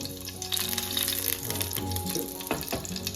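Mustard seeds and dried chillies splutter and crackle in hot oil, a dense steady sizzle with scattered pops over a low tonal hum, no voices.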